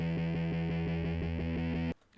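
A distorted electric guitar plays a steady chugging riff with sustained harmonic-rich tone, then cuts off abruptly near the end.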